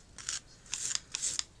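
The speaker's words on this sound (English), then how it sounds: "just running the blade of the spatula backwards and forwards" A spatula blade dabs and scrapes paste back and forth on a craft rabbit doorway piece, making four or five short, crisp scraping strokes in a steady rhythm, close and fairly quiet.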